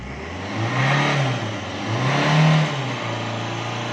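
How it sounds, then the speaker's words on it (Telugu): A Swift Dzire VDI diesel engine idles close by and is revved hard twice, each rev rising to a strong roar and then falling back to a steady idle. "ఇంజిన్ గట్టిగా రేట్ చేయండి సార్."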